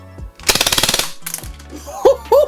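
An HFC MAC 11 gas blowback airsoft SMG empties its magazine in one rapid, loud burst of about a dozen close sharp cracks. A brief clatter follows, then a couple of faint mechanical clicks.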